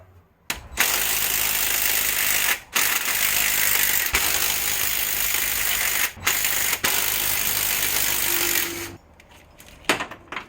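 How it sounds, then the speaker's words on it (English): A pneumatic ratchet or impact tool undoes cylinder head bolts on a 383 stroker engine, making long loud continuous rattling bursts close up, broken by brief pauses, then a few short clicks at the end. "we're going to go on and undo these and then take out all the head bolts"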